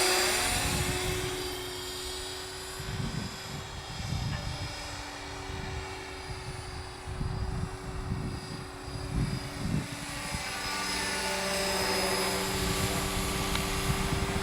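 An Align T-Rex 500e DFC radio-controlled helicopter flies in misty weather, its steady rotor whine and buzzing motor tone holding loud and continuous throughout with shifting intensity as it manoeuvres.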